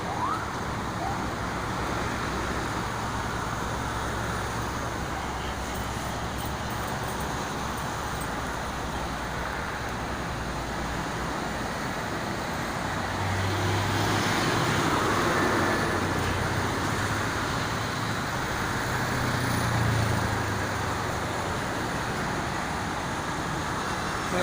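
Slow traffic jam on the Jakarta-Cikampek toll road near Karawang in the rain, a steady broadband roadway rumble of idling and creeping cars and buses with low engine drones swelling now and then, no talk.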